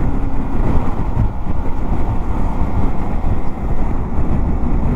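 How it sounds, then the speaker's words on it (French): Strong wind roars steadily and loudly across the microphone during a ride on a 125 cc Honda Varadero motorcycle along a country road, a continuous buffeting rush with no talking. "Il y a quand même pas mal de vent, hein. Ça souffle."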